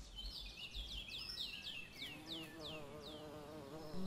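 Faint buzzing of long-horned bees in a warm, dry meadow habitat, a thin steady drone with a wavering hum, with repeated bird chirps and tweets sounding over it throughout.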